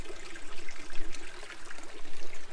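Carlson Creek flows beside a trailhead on the Superior Hiking Trail with a continuous close rushing, gurgling wash of water and no voices.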